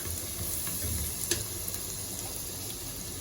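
Finely sliced chopped garlic, three cloves, frying in a pan for butter garlic chicken: a steady, close sizzling hiss with one brief clink partway through.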